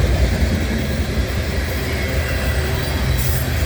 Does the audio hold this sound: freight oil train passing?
yes